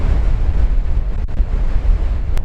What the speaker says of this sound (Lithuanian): Pučia kaip pasiutęs vėjas.